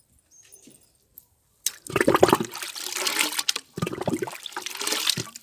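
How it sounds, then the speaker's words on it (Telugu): Tea-powder water poured from a mug onto rose plants, a close splashing pour in several bursts after a near-silent start. "ఆ మగ్గ అయితే తీసుకొని ఇలా వేసేసేయండి ఈ మొక్కకి"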